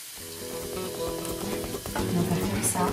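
Eggs poured over onions sizzle and are stirred in a pan for a Spanish tortilla, a busy close frying hiss mixed with scraping and clattering utensil sounds throughout.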